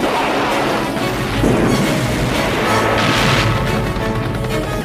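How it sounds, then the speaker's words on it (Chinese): Heavy explosions from a helicopter bombardment of an enemy base in the action film Rambo: First Blood Part II, loud and continuous booming and crashing blasts with rumbling low end throughout, no talk. "开始了一番狂轰滥炸。"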